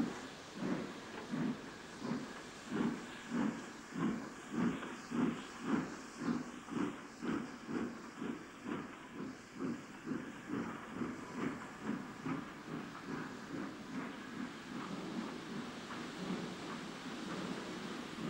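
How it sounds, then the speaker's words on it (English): An LMS Midland compound 4-4-0 steam locomotive departs on the Midland main line, its exhaust beating in steady, evenly spaced chuffs that hold a regular rhythm before softening slightly near the end, with no voices. "another 440 Midland compound departs."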